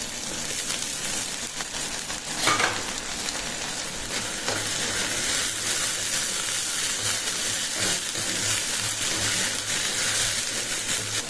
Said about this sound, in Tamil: இஞ்சி பூண்டு பேஸ்ட்டு நல்லா எண்ணெயிலே நல்லா வதங்கிடுது